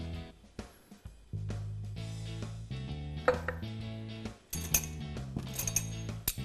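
A tomato salad with nut dressing, black pepper, salt and vegetable oil being tossed in a dish, giving a run of soft clinks and scrapes of utensils against the dish at close range.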